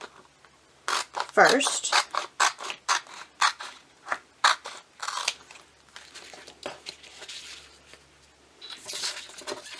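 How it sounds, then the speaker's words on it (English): Scissors snip through a Chalk Couture transfer sheet, a run of crisp, close, rhythmic cuts with crinkling of the sheet, with someone speaking briefly. "you can just cut on those lines and cut your transfer into the pieces"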